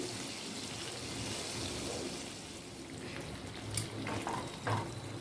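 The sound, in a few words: chicken frying in a pan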